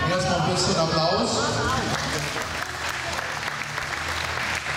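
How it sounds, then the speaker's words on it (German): Audience applause fills a bodybuilding championship hall, loud and continuous, with crowd noise and some shouting voices underneath as clapping stays steady throughout. "Erstmal ein bisschen Applaus."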